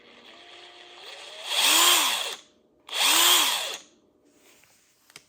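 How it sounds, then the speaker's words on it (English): A DeWalt impact driver fitted with a TORX bit socket runs in two loud bursts of about a second each, separated by a short pause. A low hum precedes the bursts and faint clicks follow them. "So I'm going to take out the DeWalt impactor."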